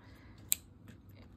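A single crisp snip of scissors cutting a yarn end while finishing a knitted teddy bear pajama bag, one brief close click standing alone over a quiet room.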